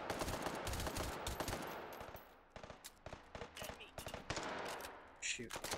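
Armor-piercing rounds fired through walls in the VR shooter Hot Dogs, Horseshoes & Hand Grenades, a rapid, loud burst of automatic fire followed by scattered single shots and short bursts nearby.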